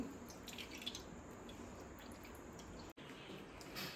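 Grated mango tied tightly in a cotton cloth drips water slowly, with faint, sparse drops falling against a quiet, hushed background.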